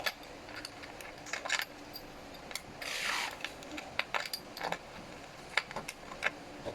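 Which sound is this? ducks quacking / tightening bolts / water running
tightening bolts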